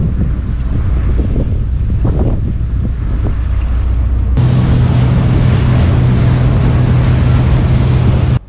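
A motorboat races across choppy sea waves off the Faroe Islands, its engine droning steadily under loud wind buffeting the microphone, with a sharper shift in the roar midway as the hull pounds through the water.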